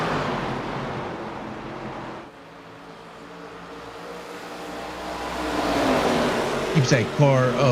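Race cars lapping at Phoenix in an ARCA series event, a steady engine roar that swells and rises toward the end as cars run near, with voices over it.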